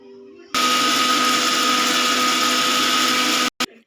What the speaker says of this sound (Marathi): हे बघा मिक्सरला लावलेलं आहे मी